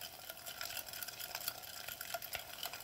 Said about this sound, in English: But also with the boiling noise.